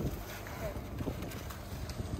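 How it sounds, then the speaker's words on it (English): Wind gusts buffet the microphone outdoors in cold Colorado, a continuous rumbling roar that swells and fades, loud and close with no clear voices. "Oh, another gust."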